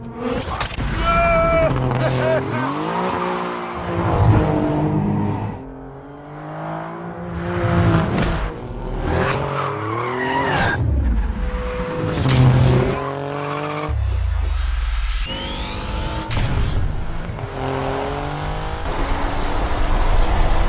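An Alfa Romeo Giulia Quadrifoglio in race mode with traction control off, its engine revving hard and climbing and dropping through gear changes, loud and continuous, with tyre noise and someone talking over it.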